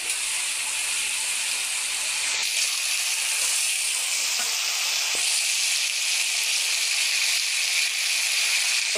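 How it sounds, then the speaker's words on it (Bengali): Kakli fish and tomato cook in a pan with a loud, continuous hissing sizzle close by, with a few faint clicks and no talking. "কাঁকলি মাছ রান্না করবো আর টমেটো এই যে রান্না করছি"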